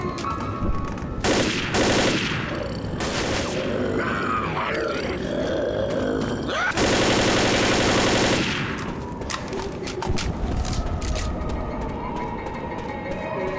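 Rapid bursts of automatic gunfire in Left 4 Dead, several loud sustained volleys separated by shorter breaks, with game noise and grunts in between.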